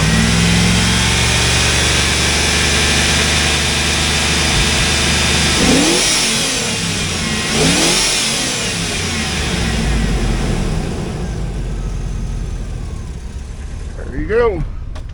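A 2004 Hummer H2 with a 6.0L LQ4 V8 revs up repeatedly from a steady idle, loud and close, climbing and falling in several swells before settling. A voice speaks briefly over the engine.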